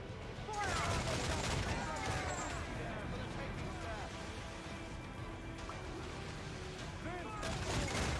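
Ship cannon fire in a naval battle from Assassin's Creed Black Flag, dense rumbling barrage of shots and crashes running throughout, with voices shouting over the battle.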